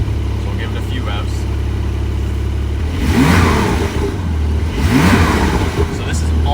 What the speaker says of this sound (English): The exhaust valves are closed. So we'll give it a few revs.